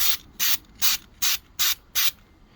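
Six short, even bursts of aerosol spray paint hiss onto a 1984 Corvette valve cover in a steady rhythm, each about a fifth of a second long, close and fairly crisp, with quiet gaps between them.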